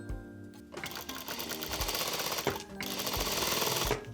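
An industrial or pedal sewing machine hems fabric through a Wayken hem folder, running in fast, loud stitching bursts with brief pauses between them.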